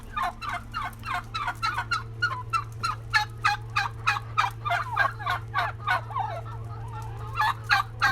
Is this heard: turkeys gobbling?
yes